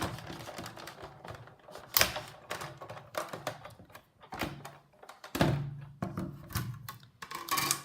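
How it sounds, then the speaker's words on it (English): Big Shot die-cutting machine cranking a card oval through its cutting pads, with irregular close clunks, ratcheting clicks and thumps in quick uneven bursts, and no talk. "I'm going to put on the top standard cutting pad and run it through my Big Shot."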